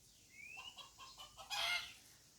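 A mother hen clucks softly with her chicks resting in the shade under a bush, giving a string of short low clucks and a thin rising chick peep, then a brighter burst of calls, all near and fairly quiet.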